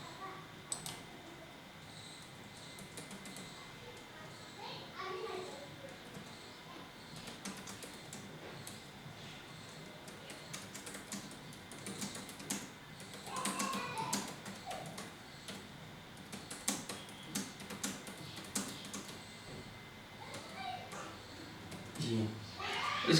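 Computer keyboard typing in MS Word 2003, quiet irregular clicks and taps scattered through the clip beneath a man's speech in Hindi.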